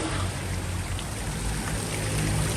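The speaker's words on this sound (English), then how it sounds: "Nice waterfall." A small waterfall beside a street in Chiang Mai splashes steadily, a continuous broadband wash of falling water that stays even and close throughout, with no voices over it.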